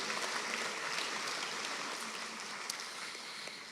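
Sustained applause for graduates fills a ceremony hall, a dense, even patter of many hands clapping at moderate distance from start to finish.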